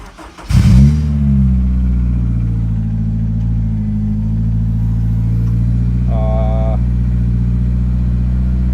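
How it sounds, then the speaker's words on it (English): A Honda S2000's engine cranks and catches, then settles into a smooth, steady low idle that hums evenly throughout, with a brief faint chime near the end. "Idling really smooth."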